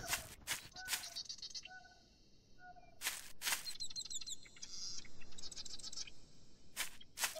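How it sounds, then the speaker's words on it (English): Birds chirp in the video game Night of the Dead, with repeated short tweets and calls scattered over quiet outdoor ambience, along with a few scratchy clicks. "Bird."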